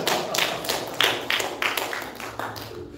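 A Salvation Army church congregation claps during a Sunday service, a series of loud, uneven bursts of hand claps close by, with little talking.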